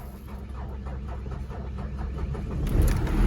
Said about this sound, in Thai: รถน่าจะมีปัญหาแล้วครับ สตาร์ทไม่ติดครับ